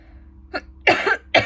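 A short, light cough followed by two heavier, rasping coughs, close by with pauses between them.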